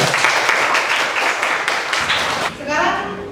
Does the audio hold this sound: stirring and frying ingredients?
no